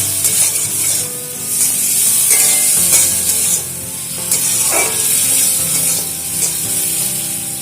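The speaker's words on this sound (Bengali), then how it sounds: "মোটামুটি একটু ভাজা করে নিলেই হয়ে যাবে।" Shrimp frying in mustard oil in a pan with a loud, steady sizzle and hiss, close up, with occasional scraping as they are stirred.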